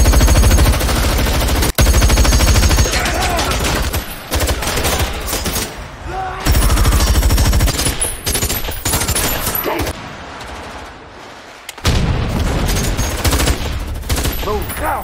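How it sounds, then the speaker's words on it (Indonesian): Gunfire in a film shootout during a robbery, with robbers shot at: dense bursts of rapid automatic fire and loud shots, broken by short lulls, heavy and close throughout. "menekan tombol alarm yang membuat orang ini melawan yang langsung menembaki para perampok"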